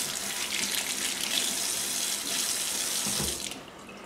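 A kitchen tap runs in a steady, continuous stream as bits of eggshell are rinsed off hard-boiled eggs, the flow cutting off just before the end.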